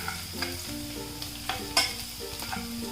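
Garlic sautéing in a pan for potato 65: a soft, steady sizzle with scraping stir strokes and a few clinks of the utensil against the pan, close and fairly quiet, with no talk.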